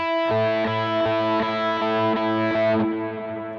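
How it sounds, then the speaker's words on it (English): Distorted electric guitar picked in a steady rhythm, each note echoed by a delay effect that layers repeats into a thick, pulsing texture. "those delay patterns, they're actually creating some interesting sounds against my simple picking"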